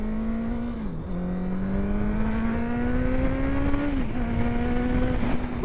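A Honda CBR motorcycle exhaust revs loudly and close during a night ride, engine note climbing steadily and blipping sharply twice as it downshifts, continuous with no talk.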